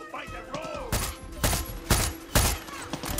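Gunfire from a gun in Far Cry 6 rings out in four loud, evenly spaced shots about half a second apart, with game ambience and faint background sounds between them.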